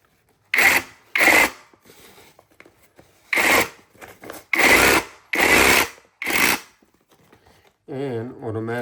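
A cordless electric bag closer sewing machine stitches a bag in several short, loud, buzzing bursts close by, separated by pauses, and a brief voice follows at the end.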